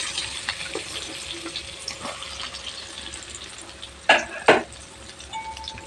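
Onions fry with cumin, green chillies, dried chillies and curry leaves for a drumstick egg curry, a quiet steady sizzle broken by two sharp utensil clinks near the end.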